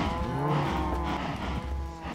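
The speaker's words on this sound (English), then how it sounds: "I can't milk this cow." A Minecraft cow lows once in a long, steady moo that carries through most of the moment. It is fairly loud against a soft game background, with no voices over it.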